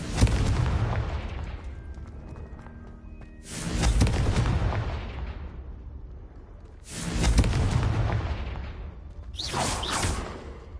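Confringo fire spell blasts cast in the Hogwarts Legacy video game, four loud booming explosions with whooshing bursts spaced a few seconds apart, each tailing off into a rumbling decay.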